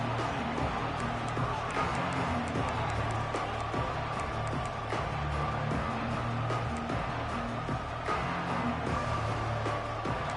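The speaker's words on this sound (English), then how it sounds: "This crowd ready to make its presence known." A packed stadium crowd roars at a Tennessee versus Texas A&M game in a college football video game, a dense, unbroken wash of noise that holds steady throughout.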